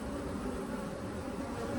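Bees hum steadily inside a beehive, a dense, continuous buzz heard up close with no other sounds.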